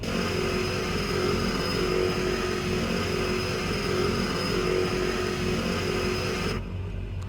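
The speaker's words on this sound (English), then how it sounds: "as you can hear, definite change to the sounds of the engines." Engines of an Embraer 110 turboprop idle in Microsoft Flight Simulator 2020, giving a steady, loud drone with a constant tonal hum that runs unbroken and eases slightly near the end.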